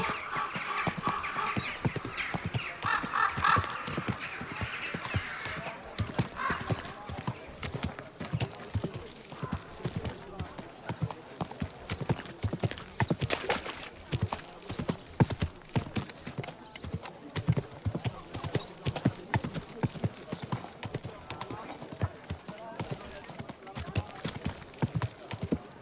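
Horse hooves clip-clop steadily and continuously in the medieval video game Kingdom Come: Deliverance II, a close, rhythmic trot with faint background ambience.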